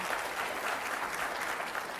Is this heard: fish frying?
no